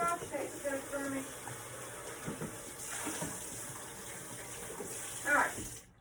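Tap water runs into a kitchen sink while food for country-style chicken and dumplings is rinsed, a steady soft wash at moderate distance with a brief louder splash near the end; someone talks faintly underneath.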